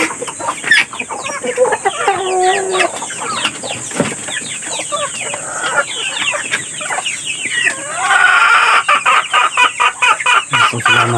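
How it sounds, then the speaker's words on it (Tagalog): Chickens cluck and a rooster crows repeatedly, a busy chorus of hungry farm chickens and ducks close by, with occasional quacking mixed in. "Nagdugutom na rin po itong mga bibi at mga manok."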